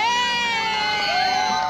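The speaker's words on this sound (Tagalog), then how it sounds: "lalong lumakas ang hiyawan" A crowd at an outdoor serenade in Mendiola shrieks and cheers in sustained high-pitched voices, loud and close, with no break across the whole stretch.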